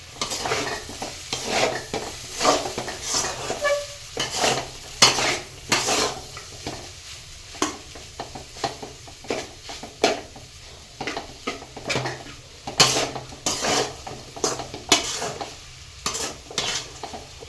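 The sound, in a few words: stirring Maggi noodles in a pan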